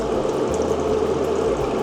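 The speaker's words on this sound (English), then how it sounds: "I'm gonna back flush again." An airbrush being back flushed while cleaning, giving a steady close bubbling, gurgling liquid sound that runs without a break and with no voices.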